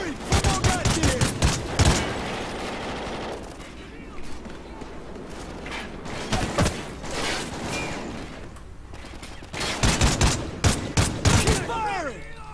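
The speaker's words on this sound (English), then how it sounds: "Who the fuck is shooting me?" Call of Duty: Ghosts gunfire, with loud, close bursts of sharp shots at the start and again near the end, separated by a quieter stretch of battle noise.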